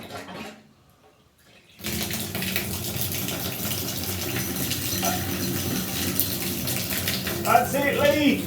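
Water gushes steadily through newly fitted shower taps during a bathroom installation, starting abruptly after a brief quiet moment and then running continuously, with faint voices near the end.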